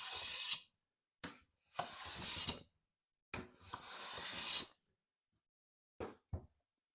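A plane blade sharpened on a fine diamond plate at a workbench: several separate bursts of gritty rasping strokes, close and fairly loud, with silent pauses between them.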